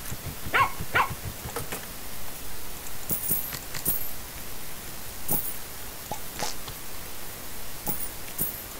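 Dog barking in the garden game Plantera, a series of short, sharp barks spread across the clip over a faint hiss of background noise, with no talk.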